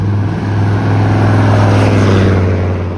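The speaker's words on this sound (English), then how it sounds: "But it's a pickup truck. It just has this muffler." A pickup truck with a loud muffler drives past on a Toronto street, a steady heavy engine drone filling the whole stretch, loud and close, swelling slightly as it passes.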